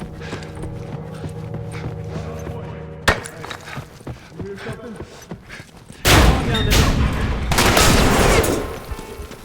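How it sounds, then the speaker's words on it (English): Enemy assault-rifle fire in a shooter video game breaks out in bursts, with sharp cracks early, then a dense loud fusillade in the second half, mixed with game sounds and some voice. "Now I got shot at, but those were enemies that were further to my left and back."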